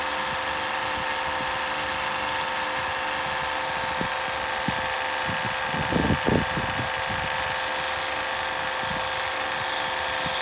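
A Stella land-based watermaker pump runs steadily as its pressure is wound up toward 800 psi, giving a constant droning hum with faint mechanical rattle and a few low knocks partway through.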